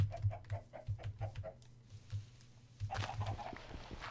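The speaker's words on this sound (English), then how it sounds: "This is where the chickens are." Minecraft chickens in the Hexxit modpack cluck in a quick run of short, regular calls, pausing before another burst of clucking, fairly close amid low background noise.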